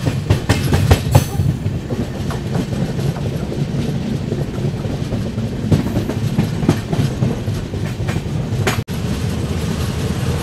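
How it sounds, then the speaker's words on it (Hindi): Train on the Bangalore to Goa run, heard from inside a 3-tier AC coach: steady loud rumble with rhythmic clickety-clack of wheels over rail joints throughout, with no voices. "प्लेटफॉर्म नंबर 2 पे अपनी ट्रेन आई थी।"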